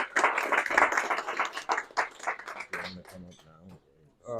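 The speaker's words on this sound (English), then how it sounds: "if I can get a round of applause for him" Scattered clapping from a small audience at a newspaper discussion event, loud at first then thinning out, followed by someone speaking over the last few claps.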